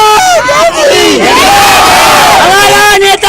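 A crowd of Congress party supporters at a ward political rally in Sagar shouts slogans in loud unison, repeated rhythmic chants from many voices very close and continuous.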